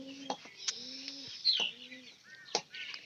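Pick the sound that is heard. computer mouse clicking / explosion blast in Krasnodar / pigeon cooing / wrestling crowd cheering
pigeon cooing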